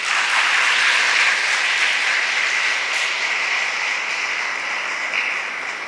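Schoolchildren in an audience at an educational academy clap together in a loud, sustained burst of applause that holds steady and slowly thins toward the end, with no voices over it.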